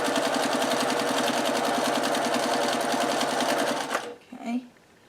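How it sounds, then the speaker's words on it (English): A sewing machine runs a straight stitch of about 2 mm through fabric in a fast, steady rapid-fire chatter that stops abruptly near the end, followed by a few faint handling sounds. "I'm using a straight stitch with about a 2 millimeter long stitch"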